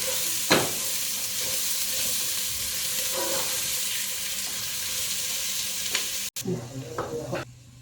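Onion and chicken liver fry in a pan with a steady, soft sizzle, broken by occasional scrapes and clinks of stirring, plus a louder clatter near the end.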